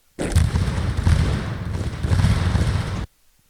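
Battle sounds from the video game Lines of Battle, with gunfire and cannon fire as massed rumbling volleys and thuds. The din is loud and continuous for about three seconds, then cuts off abruptly.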